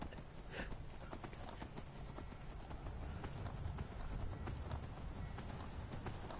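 Rhythmic clip-clop of horse hooves at a steady trot in the video game Skyrim, fairly quiet, over a soft background hiss with no talking.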